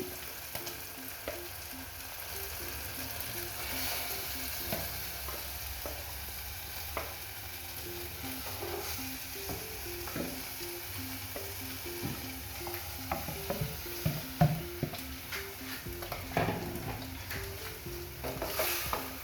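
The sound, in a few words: vegetables frying and being stirred in a pot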